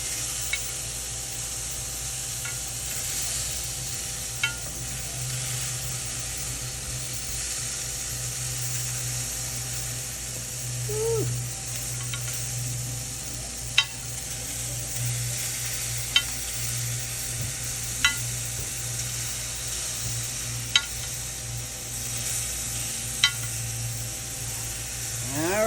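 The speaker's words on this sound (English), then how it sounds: "Now that I flipped them, I'm going to baste on this side." Meat sizzles on a grill while being basted, a steady frying hiss running throughout with occasional light clicks and scrapes of utensils, close and fairly even in loudness.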